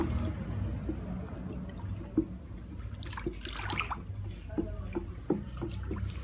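Liquid-soap ingredients poured from buckets into a bigger jug, quiet intermittent splashing and trickling with a few sharp drips and taps, under a low background hum.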